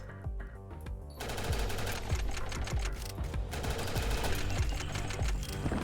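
Rapid automatic gunfire from the Hellspitter barrel in the NIMRODS: GunCraft Survivor video game, a dense stream of sharp shots with a few sparse ones, then a near-continuous loud rattling burst, with no talking.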